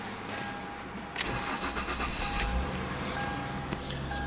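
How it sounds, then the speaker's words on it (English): A Ford Cougar 2.5 V6 with an automatic gearbox starts on the key, a brief crank catching at once into a quiet, steady idle with a few faint clicks around it. "Car fires up well, starts on the button"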